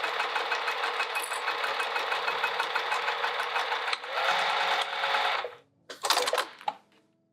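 A sewing machine stitching a vinyl sling bag, a steady rapid mechanical whirr running for several seconds, then a faster stretch, a stop, and a few short uneven bursts of stitching.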